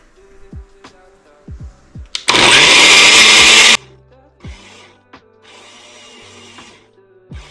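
A countertop blender on its smoothie setting whirs loudly for about a second and a half while blending a nutty pudding. Soft knocks and clicks from handling come before and after the burst.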